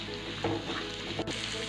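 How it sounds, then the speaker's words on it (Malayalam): Twenty small shallots sautéing in a pan, a steady close sizzle of frying with soft stirring scrapes and brief clinks, no voices. "അതിലേക്ക് നമ്മൾ എടുത്തു വെച്ചിരുന്ന 20 കൊച്ചുള്ളി അതിട്ട് വഴറ്റി കൊടുക്കണം"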